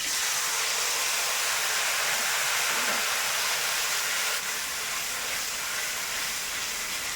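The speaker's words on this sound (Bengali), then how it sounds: "এখন আমি দিয়ে দিচ্ছি আমি যে টমেটো আর আদার পেস্ট তৈরি করে রেখেছি সেই পেস্ট।" Tomato and ginger paste hits hot oil in a pan for a chitol fish curry, giving a steady, close, loud sizzle and hiss that holds unbroken throughout.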